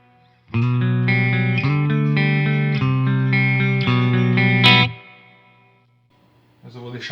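Electric guitar through a Mesa Boogie Mark III amp with Celestion V30 and G12T-75 speakers, light reverb, playing loud sustained distorted chords for several seconds, then a brief fade and a new strum at the end.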